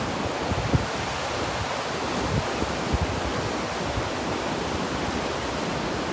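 Ocean waves crash in a steady, dense roar of surf, loud and continuous with slight surges and no voices.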